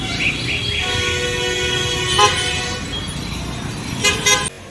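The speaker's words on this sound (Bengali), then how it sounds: "ওই বাস যাচ্ছে এর আগে পরপর বাস যাচ্ছে" Buses head one after another along a road toward the Joydev fair at Poush Sankranti. A continuous traffic rumble is broken by two clear horn toots, one about midway and one near the end.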